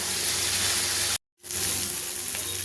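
Fried dhoka and potatoes go into a hot pan, setting off a loud continuous sizzle that briefly cuts out and then resumes steadily.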